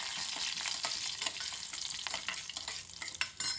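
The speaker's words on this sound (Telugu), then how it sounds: "పచ్చిమిర్చి అల్లం ముక్కలు కరివేపాకు కూడా వేసేసి కొంచెం వేగనిద్దాము" Green chillies, ginger pieces and curry leaves crackle and sizzle steadily in hot oil in a pan, with a few louder pops and stirring scrapes, close and continuous with no talking.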